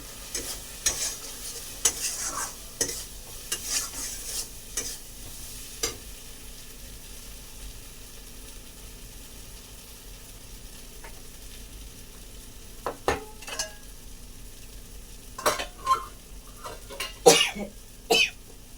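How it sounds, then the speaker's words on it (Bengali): Taro stolons (kochur loti) stirred and fried in a pan: intermittent scraping strokes of the spoon against the pan over a faint, steady sizzle, close and fairly quiet, with no talking. "আমি কচুরলতিটা এরকমভাবে রান্না করছি"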